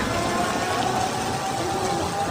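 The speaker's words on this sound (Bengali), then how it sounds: "বৃষ্টি নামছে" Heavy rain falling steadily, a dense, loud and even wash of drops on surfaces with no pauses.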